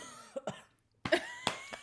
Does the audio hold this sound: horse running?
no